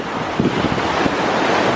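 Ocean surf washes steadily onto a small beach in Cozumel, Mexico, at low tide, a broad continuous rush with wind buffeting the microphone.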